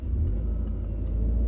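A Peugeot 208 GT Turbo pulls away from a standstill, its engine giving a steady low rumble that stays close and loud throughout, with no talk over it.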